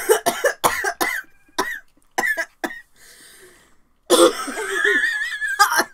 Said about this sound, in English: That was a pretty good cough for just it being a facade